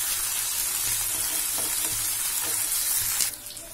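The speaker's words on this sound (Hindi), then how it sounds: "हमने काट के जो रखे हुए प्याज डालेंगे। इसको थोड़ा सा सौते होने देंगे" Chopped onions sautéing in hot oil for Punjabi-style bhindi masala, a steady close broadband sizzle with faint stirring scrapes, ending in a slightly quieter, softer crackle.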